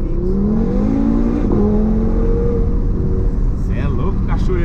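An Audi TT fitted with nitro drives with its engine droning loud and steady, the pitch climbing gradually as it picks up speed, with brief voices near the end.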